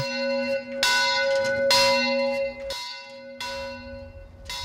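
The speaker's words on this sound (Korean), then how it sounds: "예배가 시작되기 전 어김없이 교회의 낡은 종이 울립니다." An old church bell rings out before a service in several loud, resonant strikes about a second apart, each tone lingering and humming between blows.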